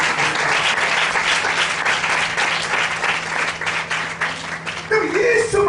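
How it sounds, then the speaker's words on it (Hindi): A church congregation at a Hindi sermon claps loudly and continuously, a dense burst of applause that fades near the end as a voice comes in over it. "जोरदार ताली बजाकर हम"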